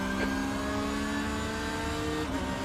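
In iRacing at the Red Bull Ring, a race car holds a steady, moderately loud engine whine with sustained harmonics that shift slightly as a faster-class car closes in behind. Nobody talks over it.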